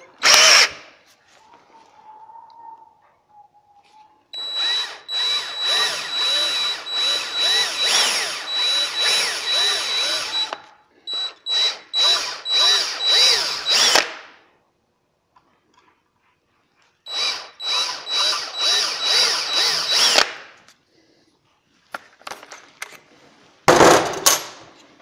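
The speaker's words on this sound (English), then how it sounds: "Quarter inch drill bit." A power drill with a quarter inch bit runs in several loud, whining bursts of a few seconds each, separated by short pauses, with a clunk of handling at the start and end.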